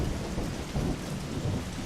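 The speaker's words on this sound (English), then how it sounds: "Oh, it's a thunderstorm," Steady heavy rain pours with a low rumble of thunder in the video game Wildlife Park 3, a dense, loud, continuous storm wash with no talk.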